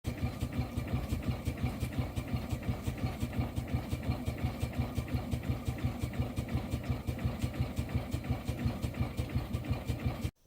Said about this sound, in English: I also want to show this awesome Garrett Showman's engine.